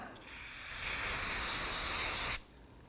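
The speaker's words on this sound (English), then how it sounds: "Use that spray solvent, clean it up." A single loud, steady hiss of an aerosol solvent can spraying on Volvo XC90 rear brakes for about one and a half seconds, close by, then cutting off abruptly.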